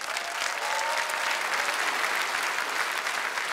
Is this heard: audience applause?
yes